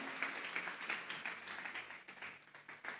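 A church congregation claps together in a steady, moderately faint round of applause with a slightly rhythmic patter that thins out toward the end.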